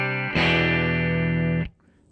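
A single clean electric guitar chord from a Strat through a Two Rock Classic Reverb amp, overdrive pedal bypassed, rings out evenly for over a second, then is cut off abruptly, leaving near silence.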